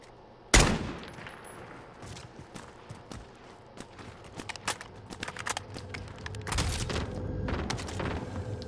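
Call of Duty: Modern Warfare gunfire: a loud sharp shot opens, then a string of scattered bursts and rapid cracks with heavy rumbling fire toward the end, up close and dense.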